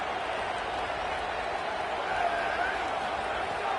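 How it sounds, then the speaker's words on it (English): A stadium crowd roars for Texas Tech on a third-down play, a dense, continuous wall of cheering noise that holds loud and steady throughout. "The crowd electric, trying to help Tech on this 3rd down."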